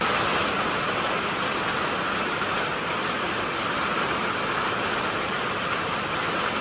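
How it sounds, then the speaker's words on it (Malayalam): Heavy rain pours down at a boat dock on a Kerala river, a dense, loud, unbroken roar of falling water with no pauses. "നമുക്ക് ഇപ്പോഴാണ് മഴ പെയ്യുന്നത്"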